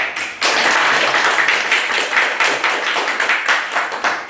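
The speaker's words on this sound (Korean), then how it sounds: "그럼 우리 황성재 전문위원님을 큰 박수로 맞이했으면 좋겠습니다" An audience at an entrepreneurship training session breaks into sustained applause to welcome a speaker, a dense wash of many hands clapping loudly and evenly for several seconds after a brief lead-in.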